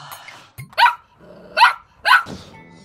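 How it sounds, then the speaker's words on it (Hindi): Pet dog barking indoors late at night, three sharp close barks at irregular spacing with a short yip before them and quiet gaps between. "अरे यार अब ये डॉगी क्यों भौंक रहा है भाई"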